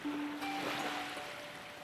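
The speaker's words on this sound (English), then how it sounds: "The waves keep coming and going." Soft ocean waves wash steadily in a continuous surf hiss, fairly faint, with a few thin sustained musical tones running underneath.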